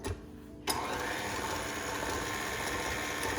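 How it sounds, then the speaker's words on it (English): A 17-year-old blender in need of maintenance churns pumpkin roll batter with a steady, loud mechanical whir and rattling grind that starts abruptly after a brief pause and runs on without talk. "That noise that you're hearing means that my blender needs to be maintenance."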